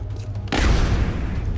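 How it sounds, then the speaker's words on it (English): Rapid fire from an alloy cannon in the video game XCOM Long War: a sudden loud burst of heavy gunfire after a brief quiet moment, followed by a dense, booming rumble that sustains and trails off. "rapid fire the cyber disc with the alloy cannon"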